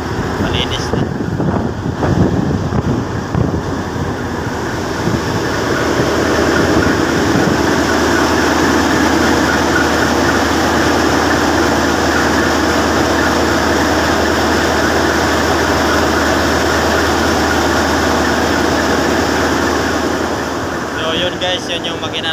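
Twin Daihatsu engines of about 1,200 each drone in a ship's engine room, a loud steady low rumble with mechanical hiss that runs throughout, plus a brief clattering burst near the start.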